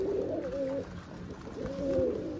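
Pigeons coo softly after bathing, with two separate rolling coo phrases, one at the start and one near the end, faint against a quiet background.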